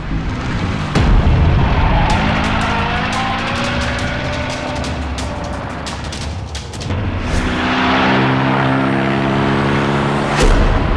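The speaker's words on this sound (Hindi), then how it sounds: "गाड़ी आ गई।" A vehicle pulls up and brakes with a loud, close rumble, a sharp hiss at the start and end, and a steady low engine drone between.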